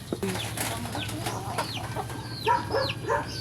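Backyard pet chickens clucking and chirping during feeding time, a scatter of short calls over a steady low hum, growing busier near the end.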